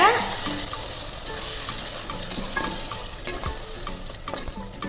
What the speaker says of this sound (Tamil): இப்போ எல்லாம் சேர்த்துட்டு நல்லா வதக்கி விட்டுக்கோங்க.